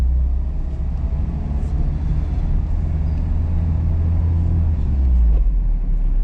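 A manual-transmission car engine drones steadily with low rumble while shifting through second and third gear at around 3,000 RPM, the pitch holding then dropping slightly near the end, loud and continuous.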